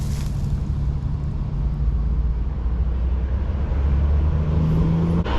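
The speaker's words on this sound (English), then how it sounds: "See, I'm telling you, all these trucks pass by." Trucks rumble past on a road beside a spring creek, a steady loud low drone swelling and holding for several seconds, with no voices.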